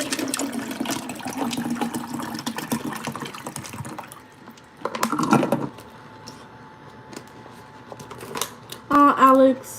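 Water being poured to fill a glass, with a running trickle and faint clinks mixed under intermittent talking during a live stream.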